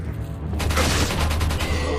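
A rapid burst of gunfire in the video game Resident Evil 4, loud and dense, rattling in quick succession after a short quiet moment.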